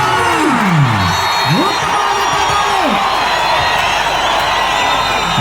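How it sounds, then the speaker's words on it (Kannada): Loud crowd applause and cheering at an outdoor kabaddi match, a steady dense roar of clapping with whoops throughout, while a commentator's voice sweeps over it. "ಒಮ್ಮೆ ಜೋರ ಚಪ್ಪಾಳೆ"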